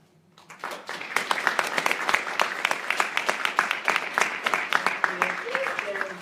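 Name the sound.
applause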